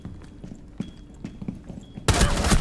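Rainbow Six Siege gunfire, a few scattered muffled thumps and shots before a sudden loud burst of rapid fire fills the final half second.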